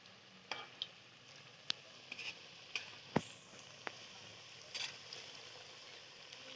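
Gourd leaf pakoras frying in a pan of oil, a faint, soft sizzle broken by scattered sharp clicks and taps as the fritters are turned one by one.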